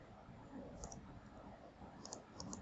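A computer mouse gives a few crisp, quiet clicks, one double click early and a quick cluster of clicks near the end, over a faint room hiss.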